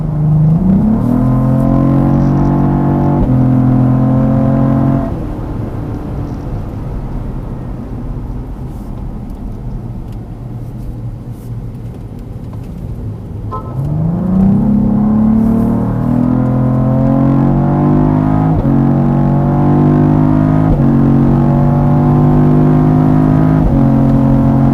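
A Cadillac CT4-V Blackwing laps the COTA race track, its engine loud and droning from inside the cabin. Revs climb through quick upshifts, ease off through a corner, then surge again through further gear changes.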